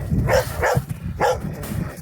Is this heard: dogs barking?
yes